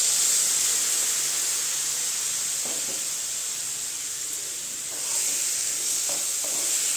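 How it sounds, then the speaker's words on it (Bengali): Coriander leaf paste tipped into spices already frying in a pan for a Bengali aloo dhaniya curry, giving a steady close sizzle and hiss that swells briefly as the paste lands, with faint stirring scrapes and no talking. "এর মধ্যে আমি এখন দিয়ে দিচ্ছি এই যে আমি পেস্ট করে রেখেছি ধনিয়াগুলো"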